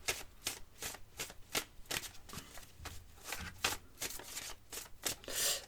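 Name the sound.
shuffling petit Lenormand oracle cards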